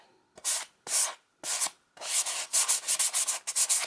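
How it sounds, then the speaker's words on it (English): A series of short, light rubbing strokes of a sanding sponge, a few separate passes and then quicker repeated strokes, close and fairly soft. "very lightly, just a few strokes with the sanding sponge"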